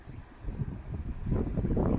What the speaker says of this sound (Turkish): Rüzgar sesi belki size de geliyordur